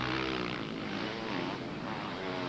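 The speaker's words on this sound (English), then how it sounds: "You can hear Jackie Martins coming through on his Husqvarna, the 4-stroke" A four-stroke Husqvarna motocross motorcycle drones loudly and steadily during a race, its pitch wavering slightly as it passes at moderate distance.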